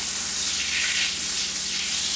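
Melted butter frying in a pan while cooking an apple strudel filling, a loud, close, unbroken sizzling hiss that swells slightly and holds steady throughout.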